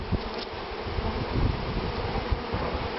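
A swarm of honeybees being collected in Loudéac, Brittany, makes a dense, continuous buzzing close by, with some soft rustling and bumps mixed in and no voices.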